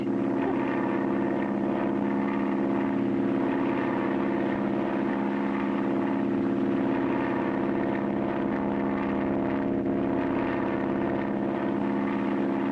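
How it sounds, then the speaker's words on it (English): Steady droning seaplane propeller engine at high power during a high-speed power landing on water, a loud sustained hum with a constant tone and no letup. "bring his plane down on the water with one float is to make a high-speed power landing"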